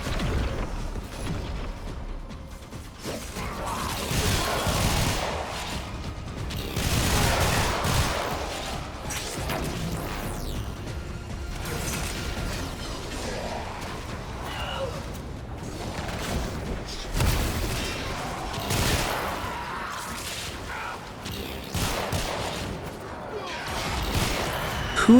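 Rapid weapon fire in Warframe's Duviri Circuit on Steel Path plays as Mesa, bursts of fast gunshots and booms over mechanical game effects, with a player talking at times.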